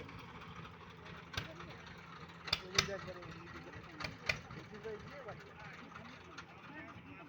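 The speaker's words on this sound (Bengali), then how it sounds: "ট্রলার ভিড়তেছে ঘাটে" A trawler engine hums steadily as the boat docks at Narua ghat on the Gorai river, with someone talking over it and a few sharp knocks and clunks breaking through.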